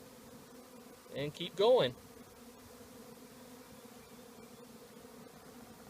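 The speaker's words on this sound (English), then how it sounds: "you will have quite a few bees that accumulate at the outside of the hive" A low, steady hum of honey bees gathering at the outside of a hive during a move from a nuc box into a deep hive body, faint under a short burst of nearby speech.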